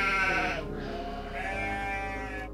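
Sheep bleating, two drawn-out wavering bleats heard close and clear, one after the other with a short gap, no talk over them.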